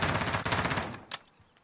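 A burst of rapid automatic gunfire in the Call of Duty Warzone video game, followed by a pause, then a couple of isolated sharp shots.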